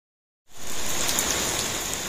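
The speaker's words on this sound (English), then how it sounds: "Sometimes I just want to pause everything and enjoy the sound of rain." Steady rain falls in a dense, even hiss that starts abruptly after a moment of silence and continues close and constant, with no voices.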